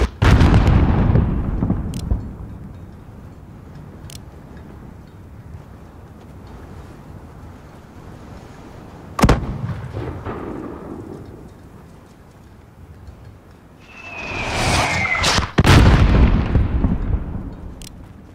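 Mortar and artillery blasts in a Call of Duty: Modern Warfare embassy battle, heavy rumbling booms near the start, a sharp crack mid-way and another loud cluster of explosions toward the end over a low battlefield rumble.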